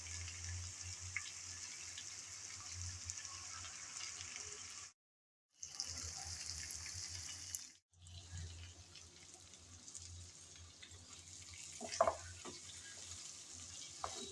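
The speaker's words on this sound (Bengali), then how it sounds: "কিছুক্ষণ সময় নিয়ে চিংড়ি ভালোভাবে কষিয়ে নিলাম" Prawns cooked down with spices in an oily pan give a steady, moderate frying sizzle with occasional stirring scrapes. It breaks off into silence twice, briefly, then resumes. No one speaks.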